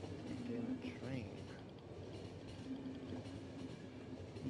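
A train runs on rails in the video game The Final Station, a steady low rumble and rolling clatter throughout at a quiet level, with a voice speaking over it.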